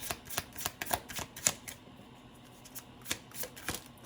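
Tarot or oracle cards are shuffled by hand during a spirit reading, producing quiet bursts of riffling and flicking with short pauses in between, close up and without speech.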